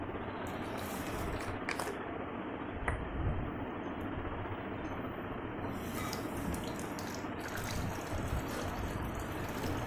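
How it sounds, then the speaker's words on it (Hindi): Water pours steadily into a container for a homemade fixative spray, a continuous close rushing and splashing stream lasting throughout, with no talk over it. "तो पहले इसमें जो है पानी भर देता हूँ।"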